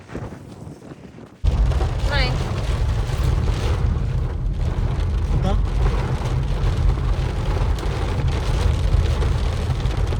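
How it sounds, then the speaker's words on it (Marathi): Heavy rain falling in Konkan, a dense, roaring downpour that starts abruptly after a brief quieter moment and then holds steady and loud, with a faint voice barely present beneath it. "भरपूर पाऊस पडायला लागला"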